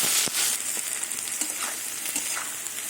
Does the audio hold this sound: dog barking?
no